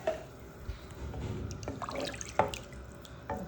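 Water being poured into a cooking pot to make a squid soup at home, heard as quiet, irregular trickles and splashes with a few sharper drips.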